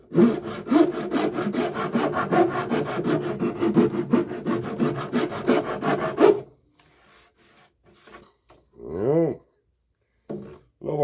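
An old-school hand rasp files the edge of a piece of wood in quick, steady, close strokes for several seconds, then stops. Brief scattered noises follow, including a short rising and falling tone.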